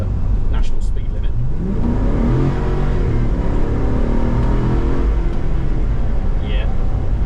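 A 400-horsepower V8 Land Rover Defender accelerates hard onto a national speed limit road, its engine note climbing through the gears from inside the cabin, loud and continuous beneath a steady rumble of road and wind noise.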